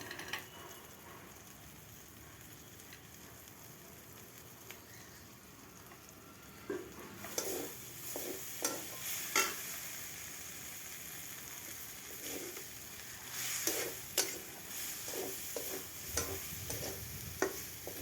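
Chicken sautéing in a pan for green chow mein, a quiet steady sizzle that swells after a few seconds with repeated stirring scrapes and clacks of a spatula against the pan, close up and without talk.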